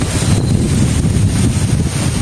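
Strong wind buffets the microphone in a steady, heavy low rumble throughout, with a faint background hum and no voices.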